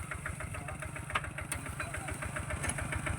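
A newly bought walk-behind farm tractor engine runs steadily in first gear, a close, continuous mid-pitched chugging with a fast regular pulse and no talk over it.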